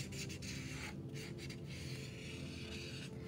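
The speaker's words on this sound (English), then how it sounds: "using the chisel tip of my marker, I'm gonna make this part thicker and fill it in" A chisel-tip marker scratches across paper as a thick line is drawn and filled in over a slightly bumpy mat, making a soft, continuous rubbing and scraping with small strokes, faint and close.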